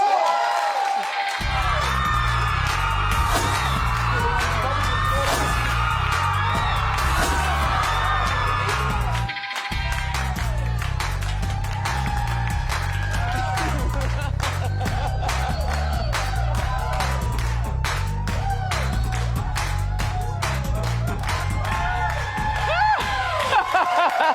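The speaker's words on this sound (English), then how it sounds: "studio audience scream the way they do" A talk-show studio audience screams and cheers loudly and continuously, with high whoops and shrieks layered over thumping theme music for the whole stretch.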